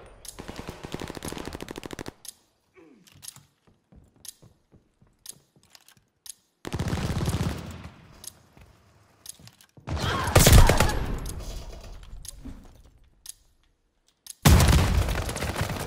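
Gunfire in the video game Call of Duty Vanguard, with shotguns in play: loud bursts of rapid shots and sharp blasts separated by quieter gaps, close and punchy, without talking.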